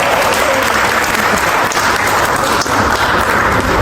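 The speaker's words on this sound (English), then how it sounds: "Give her a round of applause." Loud, dense applause from a large seminar audience fills the room, a steady wash of clapping that continues for several seconds.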